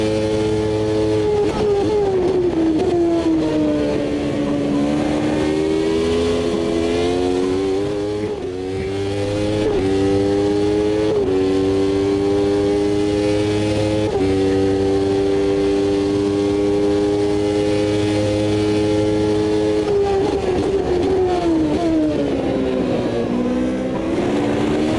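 A 1993 Formula One car in the Automobilista 2 racing game screams through the gears, its high-revving engine rising and dropping with each shift and slowing for corners, loud and continuous with no voices.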